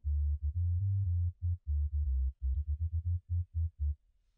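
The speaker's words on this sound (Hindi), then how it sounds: "हमारे पास बिल्कुल एक क्रिस्प एंड क्लियर सब बेस क्रिएट हो चुकी" Deep synthesized sub bass from the Serum synth, shaped with attack and release, plays a rhythmic run of short sustained low notes with soft onsets and smooth fade-outs, loud and alone.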